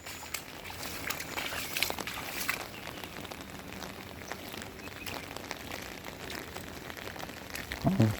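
Rain falls at the Golden Pagoda in Arunachal Pradesh, a steady, fairly faint hiss of drops spattering on surfaces with scattered sharper ticks throughout.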